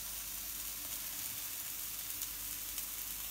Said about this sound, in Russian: Все, жарим на сковородке.